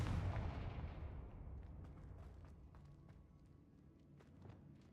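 A Confringo spell blast from the video game Hogwarts Legacy: a loud booming burst at the start that decays into a rumbling tail, followed by scattered smaller impacts and crackles, with a fresh hit right at the end.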